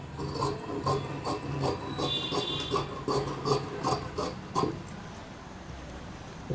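Scissors cut through aari blouse fabric pieces in a steady run of close, soft rasping snips, repeated rhythmically and then slowing toward the end.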